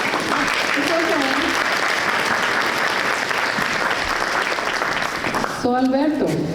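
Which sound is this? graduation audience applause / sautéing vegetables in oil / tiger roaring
graduation audience applause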